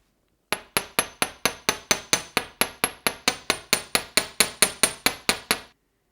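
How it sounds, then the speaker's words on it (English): Steady, evenly spaced hammer strikes on jewelry wire for a chain necklace, about twenty sharp ringing metal taps in a row, close and clear with no talking. "And then I'm going to hammer it again."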